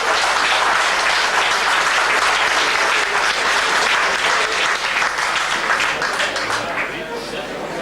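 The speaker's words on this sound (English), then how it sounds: "Come on, a good round of applause." Loud, dense clapping from a TV show's studio audience runs continuously, easing slightly toward the end as a voice begins to speak beneath it.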